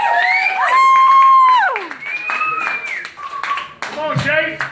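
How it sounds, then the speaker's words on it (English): A comedy crowd at the Back Porch Bar and Grill in Pensacola claps for a comedian, with loud whoops and shouting voices on top of scattered applause. "Clap for Chase."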